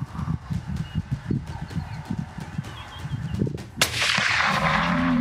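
During a Cape buffalo hunt, a single loud rifle shot cracks out partway through and rolls into a sustained rumble, following a stretch of low, irregular thudding.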